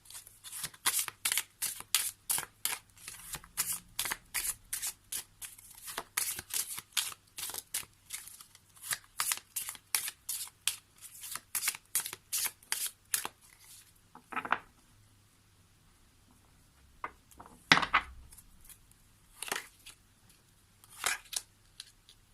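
Oracle cards of the Oracle des sons de l'âme deck being shuffled for a reading, with a long run of quick, crisp riffling snaps close up, then a pause and a few scattered card slaps.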